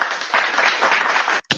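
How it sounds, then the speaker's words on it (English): Studio audience applause, a dense burst of clapping from a live crowd that holds steady and loud, cuts off briefly near the end, then resumes. "Give yourself a round of applause."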